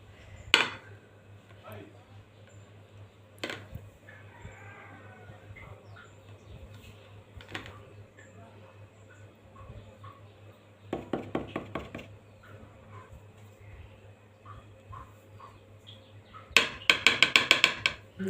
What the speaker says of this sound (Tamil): இப்போ நம்ம பிளேட்டில் கவுத்தி கொட்டிடலாம்.